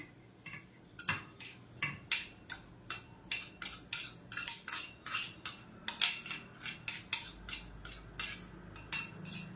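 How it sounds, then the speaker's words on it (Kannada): Fried ingredients for a ginger mango saru go into a mixer grinder jar, giving a steady run of about twenty sharp clinks and taps, close and moderately loud, with no talk. "ಇವಾಗ ಫ್ರೈ ಮಾಡ್ಕೊಂಡಂತ ಇಷ್ಟು ಐಟಮ್ ಇದೆಯಲ್ಲ, ಅದನ್ನು ನಾನು ಮಿಕ್ಸಿ ಜಾರ್ ಒಳಗೆ ಹಾಕ್ಕೊಳ್ತಾ ಇದ್ದೀನಿ"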